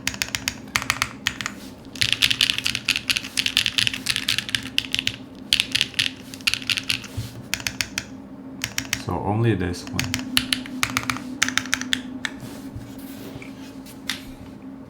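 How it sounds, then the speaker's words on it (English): Keys on a Neson Z1 mechanical keyboard, built without foam and with a hollow-sounding enter key, are typed in close, rapid clicky bursts with short pauses. A brief spoken remark comes midway. "the enter key is very hollow"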